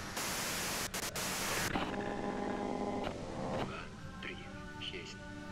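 Loud hissing white noise in Disco Elysium, like radio static, cuts off after under two seconds and leaves a talking voice over a hum with short tonal blips.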